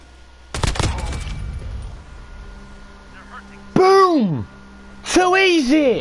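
A short, loud burst of rapid gunfire from a Modern Warfare firefight rattles out early on, followed by a player's excited, high-pitched talking.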